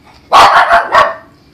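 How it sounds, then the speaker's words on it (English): A dog barks in a quick burst of four or five sharp, loud barks close by, standing out against an otherwise quiet indoor background. "Excuse the dog barking."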